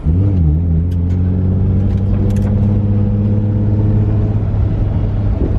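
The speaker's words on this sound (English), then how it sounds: "So just taking the street car for a drive." A Toyota street car's engine drones loudly from inside the cabin while driving, a steady low rumble with a brief rev at the start and constant road noise throughout.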